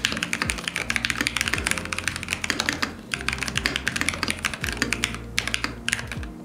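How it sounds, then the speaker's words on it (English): Mechanical keyboard with brown Gateron Pro switches, an aluminium upper body and dual sound dampers is typed on in fast, crisp bursts of close clicky keystrokes with brief pauses and no voices. "This keyboard here features brown Gateron Pro switches, and when paired with its aluminium upper body with dual sound dampers, it feels really pleasant and crispy to type on."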